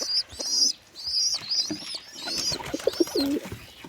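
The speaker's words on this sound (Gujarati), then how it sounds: "તો અહીંયા કબૂતરના બચ્ચાને શરણ દે છે કબૂતર" Pigeons tending their chicks: a series of soft, repeated high squeaky begging calls from the chicks, several in a row, with low cooing and quiet rustling nearby.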